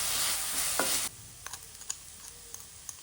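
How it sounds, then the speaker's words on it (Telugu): Onion paste with curry leaves being stirred in a frying pan for black pomfret curry: a loud steady sizzle for the first second, then scattered light scrapes and clicks of the spoon against the pan over a quieter hiss. "ప్రిపేర్ చేసుకున్న ఆనియన్ పేస్ట్ కూడా వేసుకోవాలి. ఉల్లిపాయ ముక్క కొంచెం మెత్తపడ్డాకనే మనం ఈ ఆనియన్ పేస్ట్‌ని వేసుకొని బాగా మిక్స్ చేసుకోవాలి"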